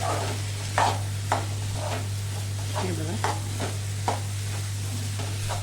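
A spoon stirs wheat kheer with jaggery in a pan, making rhythmic scraping strokes about every half second over a soft simmer and a steady low hum, with no talking.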